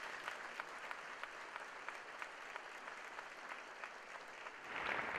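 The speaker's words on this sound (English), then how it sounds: "So let's give them a clap right now" Steady applause from an audience at a college state-of-the-college address, a continuous wash of many hands clapping at moderate distance, swelling slightly near the end, with no speech.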